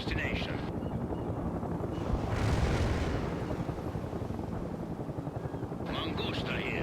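A military helicopter in the World in Conflict video game flies with a constant rotor rumble and roar, blended with distant battle noise, as brief radio-style voices come and go.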